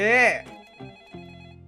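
An office telephone in the Roblox game Rushed Out rings in short electronic trills, close and fairly loud, with a voice talking around it.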